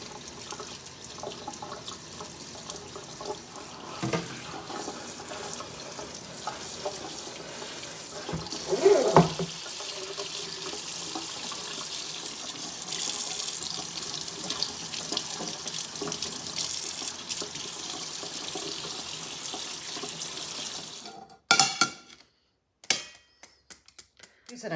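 Louisiana paste tomato seeds rinsed under a running kitchen tap: a steady, even rush of water for about twenty seconds, then the flow cuts off and a few short clatters and splashes follow.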